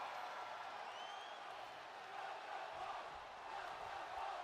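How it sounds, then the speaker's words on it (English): Arena crowd noise from the WWE 2K23 wrestling video game, a steady broad roar of spectators chanting and cheering that stays loud and continuous throughout with no talk over it. "This crowd chanting welcome home to Bayley as well."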